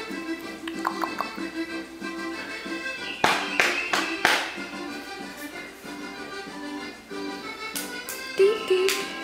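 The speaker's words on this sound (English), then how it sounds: "Clap, clap, clap, clap." A handful of sharp hand claps in a home kitchen, bunched in the middle of the stretch, over a soft sung tune and light background noise.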